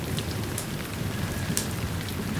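Steady rain pours down in a continuous hiss with a dense patter of drops. A few brighter splashes stand out, and no voices are heard.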